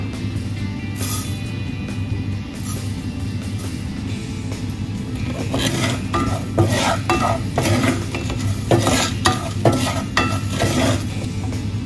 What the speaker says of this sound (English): next I'll add the black gram dal, that is urad dal